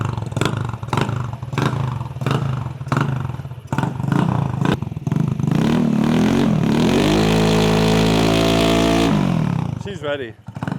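A scooter engine fitted with a fresh carburetor sputters through several sharp cranking bursts, then catches and revs hard and loud to a steady high whine before dropping off, with people talking over the start.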